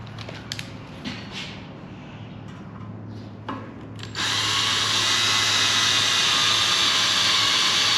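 A power drill bores a starter hole for a rivet nut, first a few short bursts and light clatter, then a loud, continuous high whine from about halfway that holds steady to the end.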